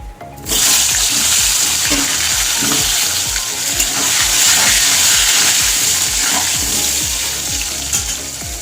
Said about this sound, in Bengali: এবার এই তেলের মধ্যে আমি কোয়াশগুলো ভেজে নেব।